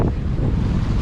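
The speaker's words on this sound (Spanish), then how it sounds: "El mar en Cartagena es así." Sea waves roll onto a beach in Cartagena, Colombia, a loud, continuous rush of surf mixed with heavy wind buffeting the microphone.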